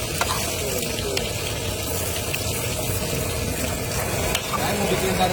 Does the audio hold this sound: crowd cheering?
no